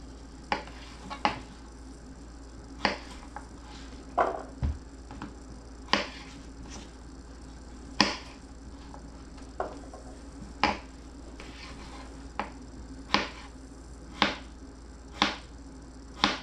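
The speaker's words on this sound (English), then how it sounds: "I'm going to cut it in half and then thinly slice crosswise" A knife slices cucumber thinly crosswise, making crisp, evenly spaced taps on a cutting board, moderately close and alone.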